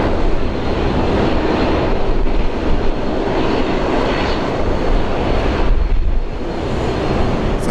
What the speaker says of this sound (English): So Jetstar 787 down here going to Bali.